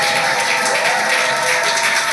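A church congregation applauds and cheers for the Lord at a Sunday service, a dense, steady wash of clapping and voices filling the room for about two seconds.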